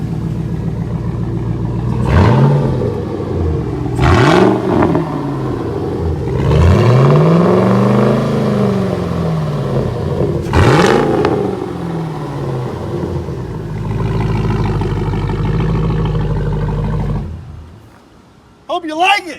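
A lifted 2011 Chevrolet Silverado 1500 with 124,000 miles revs its engine through the exhaust several times, loud and close, each roaring rise falling back to a rumbling idle before cutting off near the end.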